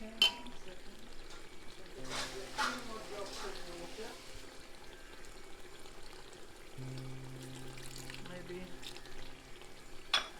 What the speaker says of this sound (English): Quarter cup of water more.